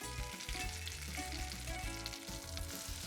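Dredged, salt-and-pepper-seasoned chicken fries in a frying pan, giving a dense, continuous sizzle and crackle heard up close but quietly, without any talk.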